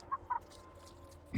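Chicken clucking in a barn during heavy construction work, two short faint clucks early on over a low, steady room hum, followed by a brief low thump at the end.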